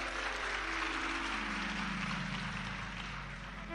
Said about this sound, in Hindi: ये ताली बजाने से कुछ नहीं होगा।